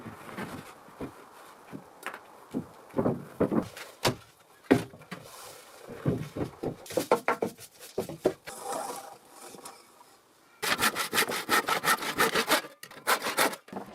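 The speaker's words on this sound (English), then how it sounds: "He slowly cleans and smooths the outer wooden wall of the house" Outer wooden wall of a forest cabin being cleaned and smoothed by hand, with rough rasping scrape strokes in an uneven rhythm, close and loud, ending in a fast burst of quicker strokes.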